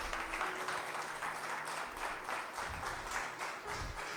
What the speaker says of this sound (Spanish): yo le daría palmas al Señor